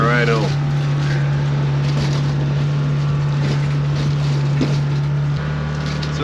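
Vehicle driving away from an ice fishing spot on a wet, thawing lake near North Bay, Ontario, a steady droning engine hum close by, with people talking over it.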